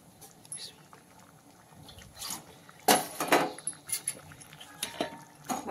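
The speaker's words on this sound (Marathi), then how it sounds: "आपण थोडंसं पाणी घालूया." Water is poured into a cooking pan of salted food in a home kitchen, a soft splashing burst with light clinks of utensils and cookware around it, quiet and close.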